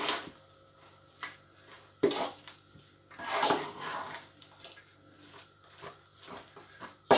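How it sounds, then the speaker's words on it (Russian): Lard is stirred with garlic and herbs in a bowl, producing soft, intermittent scraping and tapping from a utensil against the bowl, quiet and close, with a few sharper knocks. "И все это сало сейчас перемешаем"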